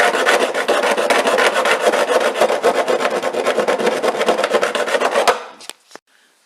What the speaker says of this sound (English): Draw filing, supposed to go forwards and then that's it.